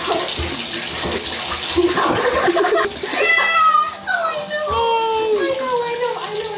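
Cat meowing and yowling repeatedly during its first bath, the cries rising and falling over running tap water splashing into a tub, with people talking nearby.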